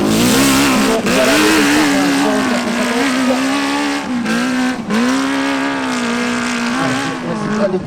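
A trial motorcycle climbs an extreme hill-climb course at Arette in 2019, its engine revving loud and close with a wavering, sustained note, briefly dipping and surging again several times.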